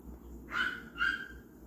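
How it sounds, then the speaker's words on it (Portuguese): A dog indoors gives two quick sharp barks, moderately close, over a quiet room hum. "vocês me perdoem do cachorro latindo"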